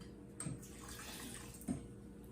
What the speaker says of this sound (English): I use that and I fill up the water bottles